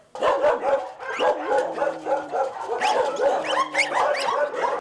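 Dogs at an animal shelter bark repeatedly in a busy, overlapping chorus, with sharp yips and a few whimpers mixed in, loud and close throughout.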